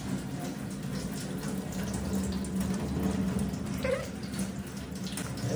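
Hot water runs steadily from a tap in a continuous, even gush, close by and moderately loud, with no talking.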